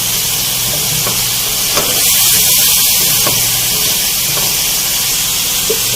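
Hot masala for a potato and peas curry hisses loudly in a pan as a little water is added, a steady spray of sizzle with faint scraping taps of a spoon and no speech.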